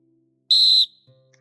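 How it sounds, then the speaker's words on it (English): An assembly whistle gives one short, loud, shrill blast that stops abruptly, followed by a faint low tone, with no talking. "before he can say anything, the assembly whistle sounds"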